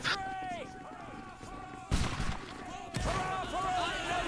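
Rifle fire in a video game battle: two heavy booming shots break through a noisy game scene, with voices and tonal game sounds around them.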